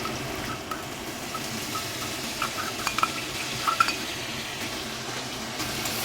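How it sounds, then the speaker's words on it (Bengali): Thick spice paste stirred into a potato and chana dal curry in a pan, a steady low sizzle with occasional spoon scrapes and soft clinks against the metal, close and continuous with no talking. "এইবার আমি এই পেস্টটাকে নিয়ে আমি তরকারিতে দিয়ে দেবো"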